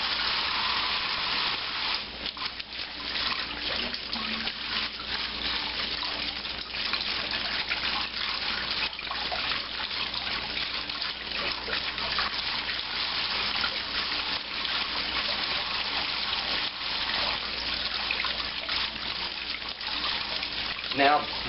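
Poblano peppers are rinsed under a running kitchen tap, giving a steady, close hiss of flowing water that lasts throughout, with a voice talking faintly over it.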